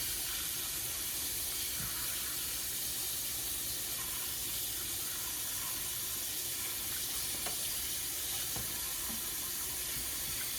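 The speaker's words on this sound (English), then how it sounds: "But I rinse the rice off real good before I put it in the rice cooker." Tap water running steadily into a kitchen sink while rice is rinsed, a constant close hiss and splash with faint clinks and no talk.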